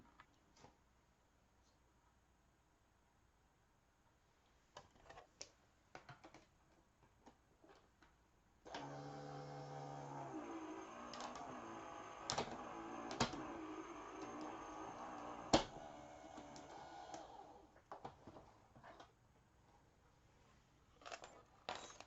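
A die-cutting machine cranks card stock through for a chalkboard coffee card, a steady mechanical grinding and whirring that lasts several seconds between scattered clicks and handling taps, fairly quiet and close.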